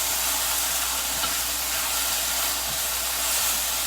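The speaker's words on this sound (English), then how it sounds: "I added about 2 heaping tablespoons of tomato, diced tomato. I'm going to stir that up." Diced tomato being stirred into nopales in a hot pan, a steady broadband hiss of sizzling and steam running unbroken, with faint scraping of the stir beneath it.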